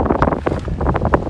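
Wind buffets a microphone outdoors at Siblyback Lake, a loud, continuous rumbling gust that roars steadily through the whole moment with no voices.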